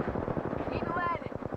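Rapid automatic gunfire in the video game Apex Legends, a fast even burst of sharp shots rattling for over a second, moderately loud, with a brief whining tone partway through.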